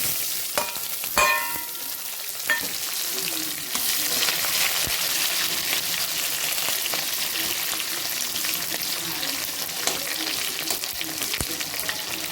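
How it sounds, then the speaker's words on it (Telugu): Large-cut onions fry in mustard oil for chicken curry, a loud, continuous sizzling hiss with occasional clangs and scrapes of a spoon against the pan. "ఇప్పుడైతే ఉల్లిగడ్డలు వేగేదాకా ఆగుదాము ఉల్లిగడ్డలు బాగా వేగాలన్నమాట"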